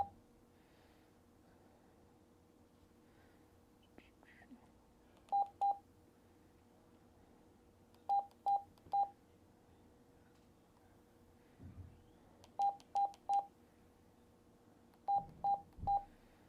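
Keypad tones from an AnyTone 878 handheld radio sound as a text message is typed, short beeps in quick clusters of two or three separated by pauses, close and clear over a quiet room.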